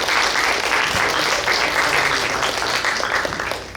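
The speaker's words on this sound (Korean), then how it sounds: "더 박수 부탁드립니다." Korean church congregation applauding during Sunday worship, a full, steady burst of clapping from many people at close range that fades slightly at the end.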